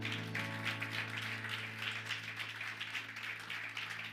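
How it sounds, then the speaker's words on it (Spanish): Church congregation applauding during a Spanish-language sermon, a steady wash of clapping over a sustained organ or keyboard chord, moderately loud and continuous throughout. "Denle un aplauso a Jesús"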